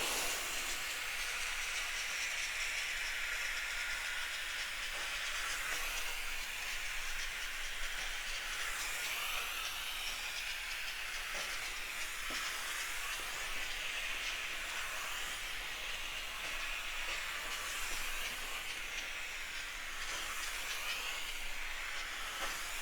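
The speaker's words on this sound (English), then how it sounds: "It just steamed those few wrinkles right out of the shirt there." Steady, continuous steam hiss from a Bissell Steamshot Deluxe steaming wrinkles out of a shirt runs unbroken throughout, broad and airy and close by, with no voices.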